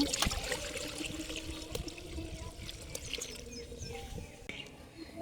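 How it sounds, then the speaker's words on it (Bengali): Water is poured into a wok on a lit stove to boil potatoes for French fries, making a steady close trickling rush that continues throughout with light splashing, and birds chirp faintly in the background. "আলুটা সিদ্ধ করবো তাই কড়াইতে পানি দিয়ে দেবো"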